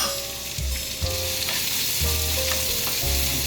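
Mashed garlic hits a hot pan and sizzles steadily at close range, with a few scraping stirs and faint repeating tones in the background, no talking.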